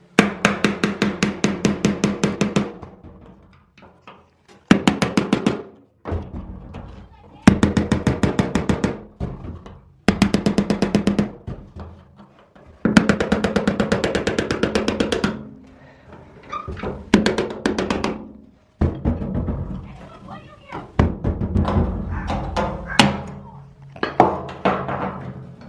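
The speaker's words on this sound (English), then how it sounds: "We're going to take these tabs and hammer them." Sharp metallic hammer strikes driving a small flathead screwdriver against the tabs of a 1973 Camaro fuel tank, coming in rapid bursts of repeated taps separated by brief pauses.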